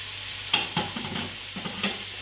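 Green onions, thyme, garlic and ginger fry in a pot with a steady close sizzle, broken by several scraping stirs of a spoon, with no talk.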